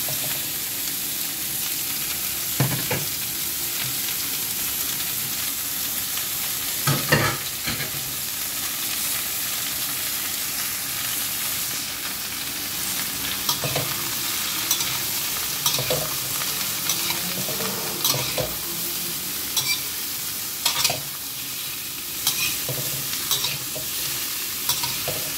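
Chayote stir-fries in a hot pan with sardines, giving a steady loud sizzle throughout and scattered scraping stirs and clinks with no voices.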